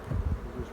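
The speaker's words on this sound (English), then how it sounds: "You can see, you can hear them. Oh, they're a little bit louder than other hives." Honeybees hum in a low, steady buzz from an open hive, close and continuous with slight swells in volume over a brief moment.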